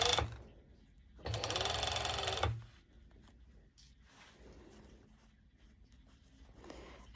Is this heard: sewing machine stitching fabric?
yes